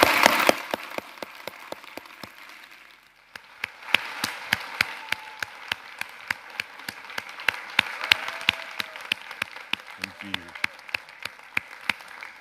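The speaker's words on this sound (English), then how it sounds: "please just give a huge, brilliant round of applause for Inaya, Shreiya, Kaitlyn and Gina." An audience applauds at the close of a panel discussion event. Scattered individual claps ring out sharply and keep on at a fairly steady, sparse rhythm for about twelve seconds, with a brief lull early on.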